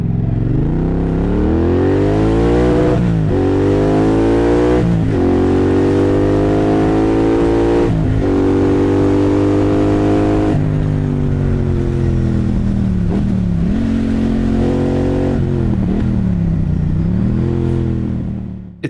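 A Norton Commando 961 motorcycle engine runs steadily and loudly while riding, its pitch climbing and dropping as it revs through gear changes, with constant rumble throughout.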